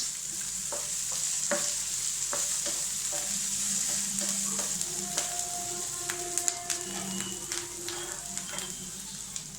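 Finely chopped onion and capsicum frying in a pan, a steady close sizzle with scattered stirring clicks and scrapes throughout, no voices.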